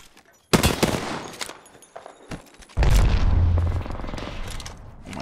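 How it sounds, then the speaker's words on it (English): Gunfire and a grenade explosion in the Apex Legends video game: a sudden loud burst of rapid shots, then a deep booming blast with rumbling low end and more crackling fire trailing off. "gonna throw a nade."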